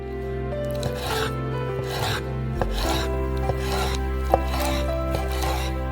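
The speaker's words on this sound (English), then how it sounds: "Last up, we have chicken thighs." A knife cuts chicken thighs into pieces, making soft rubbing, slicing sounds with a few light knocks against the board. The sound stays close and fairly quiet, with no one talking.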